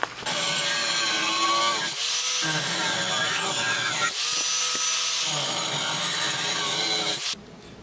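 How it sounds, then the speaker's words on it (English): An angle grinder trims and rounds the corners of a metal boat stand in two long, harsh grinding passes separated by brief pauses, loud and close. "touched them up with the grinder so I didn't have any sharp edges"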